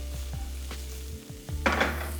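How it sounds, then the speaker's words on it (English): King oyster mushrooms fry in a pan with a low steady sizzle, a few light utensil clinks and scrapes, then a louder hissing burst near the end as they hit hot oil or get stirred. "In the meantime, we can fry our lovely king oyster mushrooms again."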